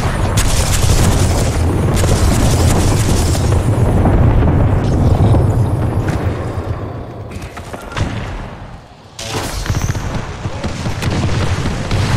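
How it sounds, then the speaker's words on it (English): A frag grenade goes off in Apex Legends in a loud, roaring blast that rumbles on for several seconds, fades, then gives way to a sharp second burst and continued heavy rumbling. "Frag grenade set."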